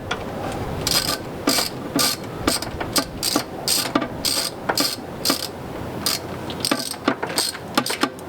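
Ratchet wrench clicking in quick repeated bursts while tightening bolts on the water pump of a 1986 Chevy C30 truck, close and fairly steady with brief pauses between strokes.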